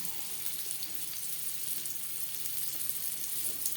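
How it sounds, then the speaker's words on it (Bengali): Potato pieces fry in hot refined oil with a steady, dense sizzle and crackle that runs evenly throughout without a break. "সবার প্রথমে আমি আলু ভেজে নেব আমি রান্নাটা করছি রিফাইন্ড অয়েলে"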